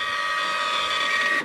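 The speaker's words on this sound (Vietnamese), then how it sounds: "Rồi cái máy in này nó tự cắt giấy cho các bạn nha" An Xprinter wifi thermal printer prints a receipt with a steady high whirring buzz, then its auto-cutter snaps the paper at the end, close and alone.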